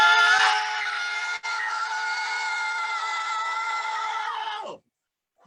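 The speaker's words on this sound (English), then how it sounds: "I want everyone to scream goal as loud as they can." A crowd of comedy-show audience members screams "goal" together in one long, loud sustained shout that holds for several seconds before cutting off abruptly into silence.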